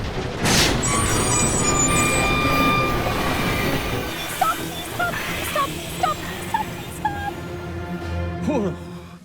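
A train in an animated cartoon: a loud rumbling rush with squealing metallic tones, then lighter clattering wheel knocks and clicks as it rolls on, with voices talking over it.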